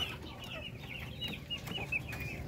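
Darag native chickens cluck softly on a farm, with several overlapping bird calls close by above a low background hum.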